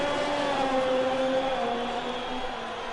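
A McLaren race car in a racing video game, its engine droning with a rough, uneven tone that holds steady and fades slightly toward the end.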